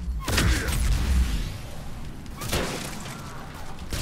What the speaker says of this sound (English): I do believe I heard a fire explosion there.